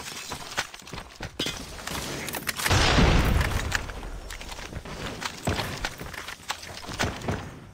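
Grenade blast and gunfire in a Search and Destroy match of a first-person shooter, with a loud sustained explosion rumble in the middle surrounded by scattered sharp gunshots and footsteps.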